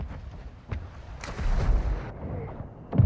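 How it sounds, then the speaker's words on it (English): Mortar strike explosions in a first-person shooter video game: a few deep booming blasts and rumbling impacts, with a loud burst near the middle and another sharp hit at the end, heard at moderate volume. "I dropped a mortar strike."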